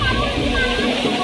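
Boys swimming and splashing in water during rain, a steady wash of sloshing water throughout with voices mixed in.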